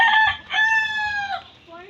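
A rooster crows once, loud and close, its drawn-out call rising and falling before trailing off.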